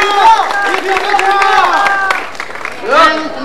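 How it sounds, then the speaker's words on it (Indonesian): Crowd clapping and cheering at a lively community gathering, loud and sustained over about three seconds, mixed with shouting voices and a swelling burst near the end. "Tepuk tangan buat Dudung"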